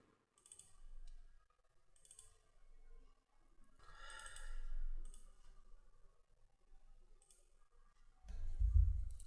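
A computer mouse clicking while working on a PC, scattered soft clicks in small clusters against a quiet background.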